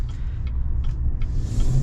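Steady low road rumble and tire noise inside a 2021 Chevy Silverado 1500 High Country on 22-inch wheels while driving, a continuous deep drone with faint higher hiss and no talk.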